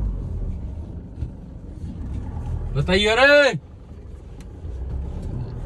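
An Isuzu V-Cross 4x4 rolls across a farm field with a steady low engine rumble from inside the cab, while a man briefly calls out over it partway through.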